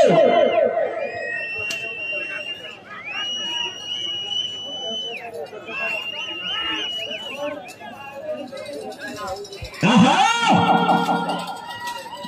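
At a Telugu village ram-fighting competition, a crowd chatters and shouts with whistles rising over the din and a sudden loud burst of cheering near the end; an announcer's voice carries over the noise.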